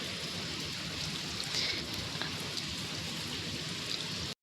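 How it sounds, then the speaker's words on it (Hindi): Steady rain pours down outdoors among garden plants and greenery, a dense continuous hiss of drops on surfaces that holds evenly throughout with no voices. "बारिश तो हो रही है"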